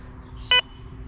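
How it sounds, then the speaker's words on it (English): A Garrett Vortex metal detector gives a single short, loud electronic beep during a reset, standing clearly above quiet background noise. "hold it down until it double beeps"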